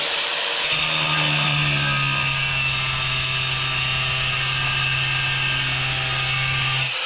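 An angle grinder cutting a round hole in tile whines at a high, steady pitch. The cut runs continuously for about six seconds, loud and close, and nobody speaks.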